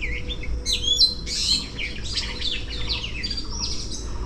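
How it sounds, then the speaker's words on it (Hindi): Several birds sing in the morning with varied chirps, tweets and short squawks, overlapping steadily throughout at moderate distance over a low, constant background rumble, with no talking. "सुबह सुबह ना ऐसा प्यारा प्यारा गाना सुनने को मिलता है पक्षियों का, अलग अलग अलग अलग साउंड।"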